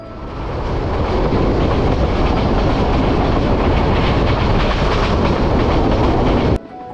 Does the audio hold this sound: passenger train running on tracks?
yes